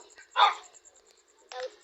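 Two quick dog barks in a video game, the first louder, the second softer and shorter, sound against an otherwise quiet background.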